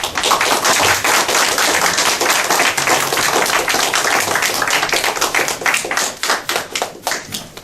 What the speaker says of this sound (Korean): 박수로 환영하십시오.